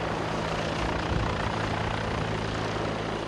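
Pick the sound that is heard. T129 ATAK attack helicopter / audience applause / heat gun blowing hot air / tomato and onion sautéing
T129 ATAK attack helicopter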